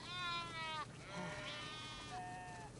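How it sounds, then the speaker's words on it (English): Sheep in The Last of Us Part II bleat in a quick run of wavering, nasal cries, one long call followed by shorter ones, close and clear with no talking over them. "We definitely have way too many sheep."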